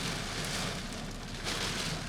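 Steady rain falls outside a parked 2015 Chevrolet Silverado 1500 Regular Cab, a dense even hiss heard from inside the cab, soft and continuous with no voices.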